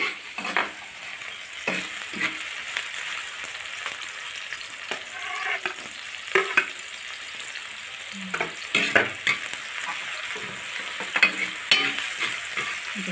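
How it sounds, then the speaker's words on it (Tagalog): Tilapia for escabeche fries in a pan with a steady, fairly soft sizzle and crackle heard close up, broken by occasional scrapes and clinks of a utensil against the pan. "Ito po magsimula na si Justin magluto ng escabeche tilapia"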